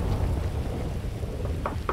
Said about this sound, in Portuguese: Caraca, que temporal, velho.